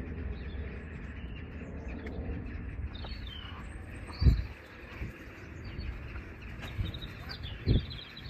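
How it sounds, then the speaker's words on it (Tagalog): Many birds call across a riverside scene at Teddington Lock in summer, small scattered chirps and tweets over steady outdoor ambience, with a couple of louder low thumps breaking through. "Daming ibon ng piliparan."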